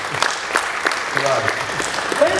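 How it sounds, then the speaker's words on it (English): A round of applause from an event audience, scattered claps and cheers coming through beneath ongoing talk and voices, uneven and moderately loud. "Can we give a fair round of applause for that, please?"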